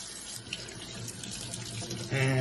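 Warm tap water runs into a sink while fresh rhubarb stalks are rinsed, a steady close splashing that swells louder near the end, with no talk over it.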